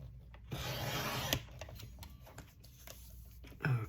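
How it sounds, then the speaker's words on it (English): A sharp blade trims the edge off a paper sheet from a tablet, producing a soft close scraping rasp followed by a few faint rubbing and tapping sounds, with a brief bump near the end. "Let me trim that off because that's going to bother me."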